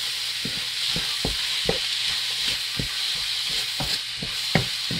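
A spoon stirs seasoning and salt into sizzling vegetables for Ghanaian chicken fried rice, with a steady frying hiss under repeated scraping strokes at an even rhythm, close and alone without talk.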